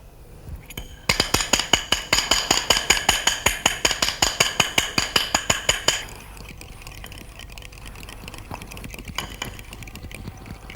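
A homemade egg shampoo with a little lemon is beaten by hand in a bowl, giving a fast, even run of sharp clinking strokes for about five seconds, close and fairly loud, then only faint stirring and room noise.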